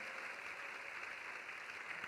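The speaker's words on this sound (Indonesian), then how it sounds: "Yang setuju beri tepuk tangan." A church congregation applauding together during a sermon in Ambon, Maluku, a steady dense wash of clapping that holds at an even level throughout, with no speech over it.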